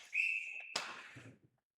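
A referee's whistle stops play during a Canadian university women's ice hockey game after a goaltender covers the puck, one sustained shrill blast followed by a sharp burst of arena noise that fades out.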